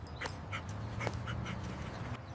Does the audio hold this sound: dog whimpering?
yes